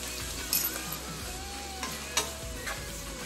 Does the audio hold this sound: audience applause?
no